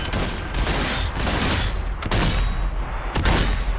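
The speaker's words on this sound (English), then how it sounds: "This is a fully upgraded rifle as well." A dense burst of gunfire with loud, booming shots and echoing reports, from a fully upgraded rifle in the zombie shooter Zombie Army 4: Dead War, sharp cracks rising above a continuous roar of battle.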